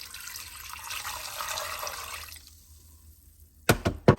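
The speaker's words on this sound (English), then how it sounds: "we are going to pour all of this into our crock pot as well, right on top of our cream cheese and sausage" Liquid ingredients poured into a crock pot over cream cheese and sausage, a steady close splashing pour for about two seconds that fades out, followed by two sharp knocks.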